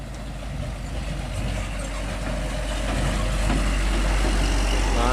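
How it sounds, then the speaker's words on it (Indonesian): Mitsubishi Fuso trucks exit a toll road at kilometre 143 with a loud, steady rumble of diesel engines and heavy roadside traffic noise. The sound builds slightly as the vehicles pass close by, with no voices. "Nah, ini ada truk-truk Sinefuso ini."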